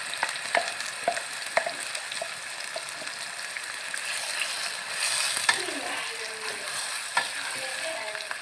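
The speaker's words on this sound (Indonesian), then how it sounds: "sekarang kita tumis bumbu yang sudah kita blender tadi" A blended chili and shallot spice paste sautés in about two tablespoons of oil for Soto Minang, giving a steady moderate sizzle with scattered clicks and scrapes from stirring throughout.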